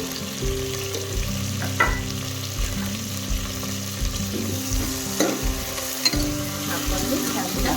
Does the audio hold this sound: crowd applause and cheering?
no